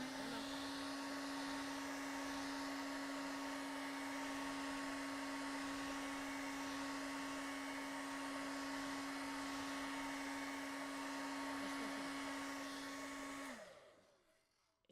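A hair dryer blows steadily on a beginner landscape painting, a loud, even whine holding for most of the stretch before cutting off abruptly near the end.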